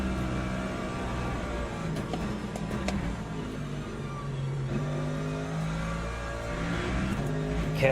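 Hypercars roar past in Le Mans Ultimate at Bahrain, with steady, loud engine drone and rising and falling revs as the cars pass close by.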